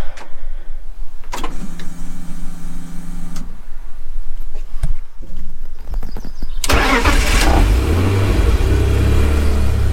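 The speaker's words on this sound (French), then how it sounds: "ça va être le premier vrai démarrage complètement à froid" A BMW 328 Ci E46 drift project car has its engine started fully cold. Electric whirs and clicks come first, then the starter cranks, and the engine catches with a loud roar and settles into a rough, rumbling idle close by.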